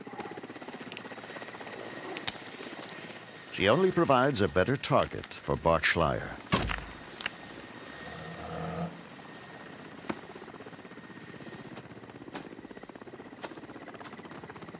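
A helicopter flying over snowy tiger country while a tigress is tracked and darted, its steady rotor drone running throughout at moderate level, with someone speaking over it for much of the time.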